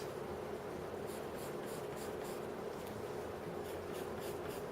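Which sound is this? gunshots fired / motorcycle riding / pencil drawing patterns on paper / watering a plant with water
pencil drawing patterns on paper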